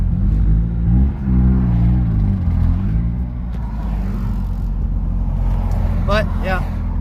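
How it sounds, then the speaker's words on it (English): A 250-horsepower turbocharged Subaru BRZ on single-digit boost idles close by, a steady low rumble that continues alone without any break, with other faint traffic noise mixed in. "That's a 250 horsepower BRZ"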